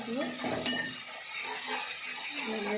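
Spices frying in hot oil in a pan, a continuous close sizzle with stirring scrapes and occasional utensil clinks against the pot, no talking.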